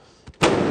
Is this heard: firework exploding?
yes